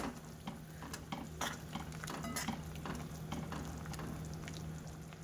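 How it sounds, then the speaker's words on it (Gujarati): Roti pieces being stirred into a boiling, bubbling tempered mixture in a pan for vaghareli rotli, with scraping and clinking of a spoon against the pan over a steady simmer, no voices. "આપણે રોટલીના કટકા મોટા મોટા કર્યા હતા તે ઉમેરી દઈશું અને મિક્સ કરી લેવું"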